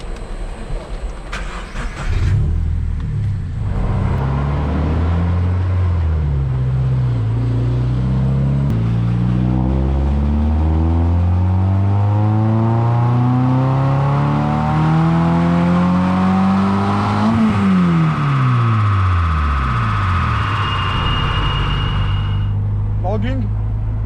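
HKS supercharged Toyota GT86 on a dyno, engine starting then climbing steadily in a long loud rev toward 6,000 RPM, supercharger whine rising with it, before dropping back sharply to idle near the end.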